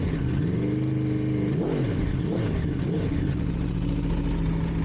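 An Aprilia RSV4 track bike's engine idling, then blipped through a few sharp revs that rise and fall, close and loud, before settling back to a steady idle.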